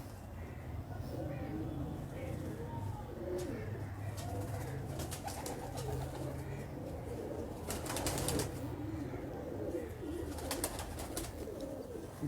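Pigeons at a high-flyer loft coo in a low, continuous murmur, with brief bursts of wing flapping breaking through now and then against a steady background.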